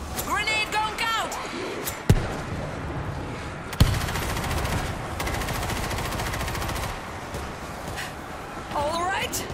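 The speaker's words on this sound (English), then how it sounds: "Grenade going out!" Gunfire and a grenade blast in World War Z, sustained machine-gun fire with two sharp heavy impacts, while players shout and talk over the combat.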